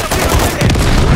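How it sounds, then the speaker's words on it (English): Dense gunfire from several weapons in Call of Duty Modern Warfare 3 rattles loudly and continuously, aimed at a helicopter in a brief, close burst. "Effective fire on the helo."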